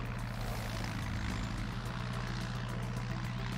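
Steady propeller aircraft engine drone from the Sausage Man battle game, a continuous low hum with harmonic bands holding constant and close for the whole stretch, with no talk over it.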